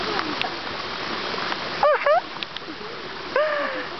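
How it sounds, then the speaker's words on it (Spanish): Water from a waterfall in Borneo, Malaysia, splashes and rushes steadily in the background. A few short voice-like chirps and bursts sound over the constant flow. "Estamos en una cascada preciosa y es muy bonita."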